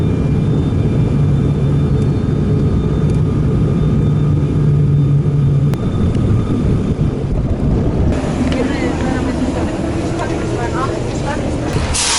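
Small passenger plane on the ground at Zakynthos after a flight from Corfu, its engines giving a steady, fairly loud drone with a broad rushing roar that holds throughout.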